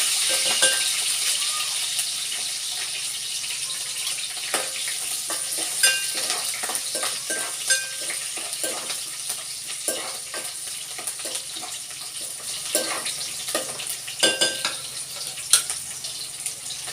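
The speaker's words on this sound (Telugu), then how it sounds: "ఆనియన్ వచ్చేసి ఫ్రై అయిపోయాయి." Small onions frying in a pan for a bitter gourd fry, a steady close sizzle with scattered scraping clicks of stirring throughout, faint and even with no talking.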